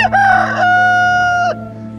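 A neighbor's pet rooster gives one loud, close cock-a-doodle-doo, a strained opening note rising into a long held tonal crow that breaks off sharply, with a steady low hum behind it.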